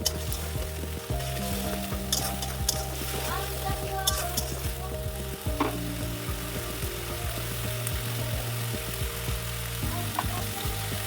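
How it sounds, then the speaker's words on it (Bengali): Ground spice masala of chilli, turmeric, cumin and coriander powders fries in oil in a pan, sizzling steadily with stirring scrapes and clinks throughout, at moderate loudness with low background hum. "ভালো করে এটাকে কষিয়ে নেব যতক্ষণ না তেল ছেড়ে আসে"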